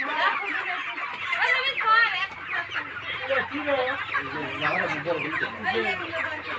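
Many chickens cluck continuously and close by, a busy overlapping chatter of birds.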